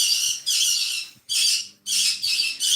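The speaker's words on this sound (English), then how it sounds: "And of course, there go my birds." Pet birds squawking indoors in loud, shrill bursts, four or five harsh calls with brief gaps between them, close by and with no talking.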